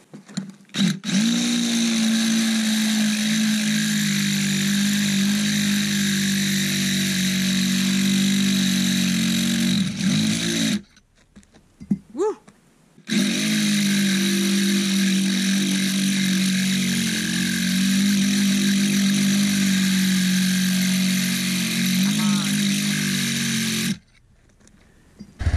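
A riding lawnmower engine hums steadily, close and loud, while pulling a trailer, cutting out briefly twice before roaring back.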